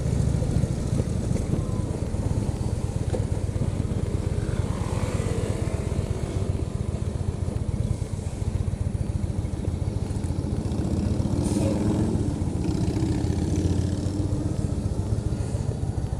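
Motorcycle carrying a rider and a passenger on the back, its engine droning steadily with heavy wind rush throughout, loud and continuous with no talk.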